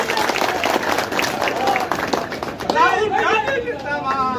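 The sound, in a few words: crowd applause at a political rally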